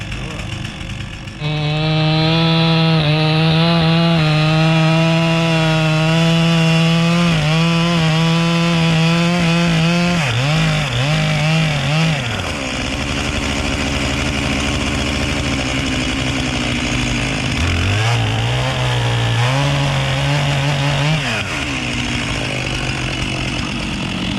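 Chainsaw bucking up wood, the engine revving loud and close and holding steady through long cuts, then dropping and rising again as the saw bites into the log.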